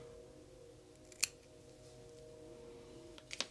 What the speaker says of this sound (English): I'm going to trim it off with my scissors.